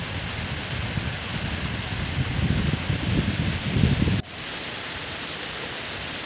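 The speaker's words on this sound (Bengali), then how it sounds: "দেখছেন অঝোরে বৃষ্টিপাত" Heavy rain pours steadily over a village, a dense continuous roar of drops on surfaces that breaks off abruptly partway through before the downpour continues, with no voices heard.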